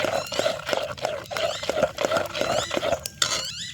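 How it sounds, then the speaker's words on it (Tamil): Spoon scraping and clinking steadily against a bowl while banana paniyaram batter is stirred, a rhythmic close-up mixing sound with a soft wet churn. "நல்லா இப்போ இதை நல்லா கிண்டிக்கலாம்"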